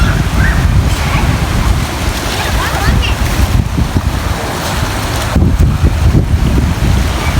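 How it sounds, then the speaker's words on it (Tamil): Floodwater surges hard over a road in Batticaloa while strong wind buffets the microphone, a loud continuous roar and rush lasting several seconds with no pause. "மேலால் தண்ணி ஆக்ரோஷமாக வருது"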